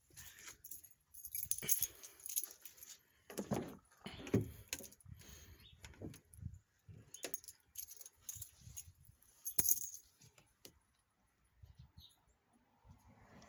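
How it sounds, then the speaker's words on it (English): Keys for a Dodge Dakota pickup jingle and clink in irregular bursts over several seconds, close and quiet, with handling knocks and rustles between the metallic jangles. "Probably should get the keys."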